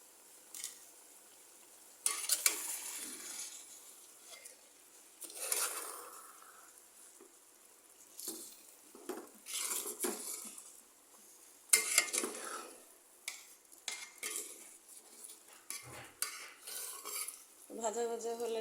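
Washed rice is stirred and fried in a pot for beef biryani, with irregular scraping and clinking bursts of a utensil against the pot over a faint sizzle, close and fairly quiet, with no talking.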